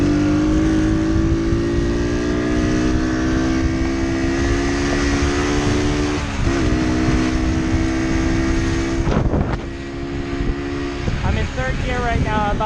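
A 2018 Amstar Nostalgia 49cc cafe racer motorcycle is ridden with a steady, buzzy small-engine drone and a rising tone. Near the end the pitch dips as the rider shifts or slows. Wind noise runs throughout, and someone talks over it.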